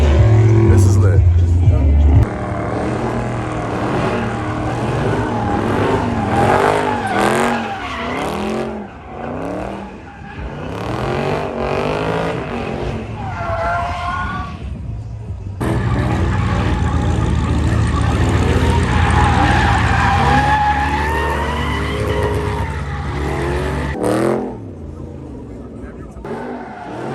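Cars revving hard and sweeping past at a night car meet in New York City, engines rising and falling in pitch with tire noise, loud and close as excited talk runs over them.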